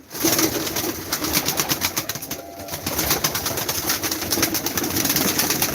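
A pair of crested pigeons, male and female, coo steadily and close by while being held, with dense continuous calling over background noise and no talking.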